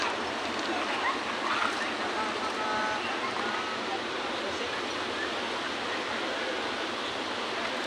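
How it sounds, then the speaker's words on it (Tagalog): Water of the Cantingas River on Sibuyan Island rushes steadily in a dense, unbroken wash, close and fairly loud throughout with no break in the flow. "Nandito kami ngayon sa Cantingas River."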